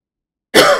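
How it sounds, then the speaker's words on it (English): A single loud, abrupt cough from a man bursts in close to the microphone after silence. "Didn't mean to cough that loud."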